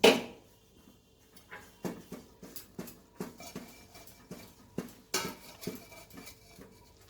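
Jowar flour mixture stirred in a pan, heard as a series of irregular clinks and scrapes of a utensil against metal, close and fairly quiet, with a sharper knock at the start.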